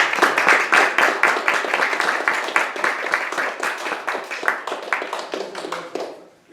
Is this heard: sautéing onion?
no